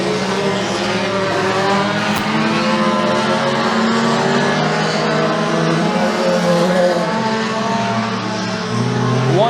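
Mini stock race cars roar around McKean County Raceway, a dense layered engine howl from several cars at once, loud and sustained with pitches shifting as they pass down the straightaway.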